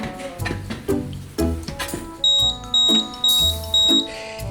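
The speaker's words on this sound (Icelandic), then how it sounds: "Athuga þarf reglulega hvort reykskynjarar virki með því að ýta á prufurnappinn." Household smoke detector sounding during a test-button press, a series of sharp high electronic beeps in a steady pulsing rhythm, close and fairly loud over low indoor background rumble and knocking.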